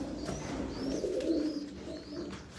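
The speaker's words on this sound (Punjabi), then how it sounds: "ਇੱਧਰ ਬੈਠੇ ਆ ਕੁਛ ਕਬੂਤਰ" Competition pigeons murmur with a low, continuous cooing inside a loft, steady and close, with no voices.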